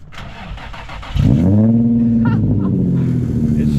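An Infiniti G35 fitted with ISR blast pipes exhaust cranks briefly and fires into a loud, deep, rumbling idle that holds steady up close, with faint voices in the background.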